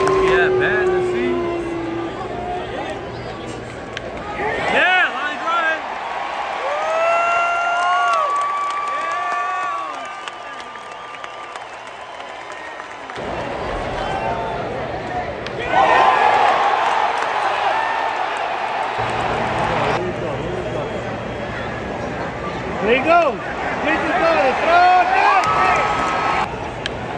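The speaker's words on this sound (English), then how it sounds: "All this immersive crowd here" A large crowd at Dodger Stadium during a baseball game cheers and murmurs in the distance. The roar swells and eases in waves, with shouts and a nearby voice talking over the stadium noise.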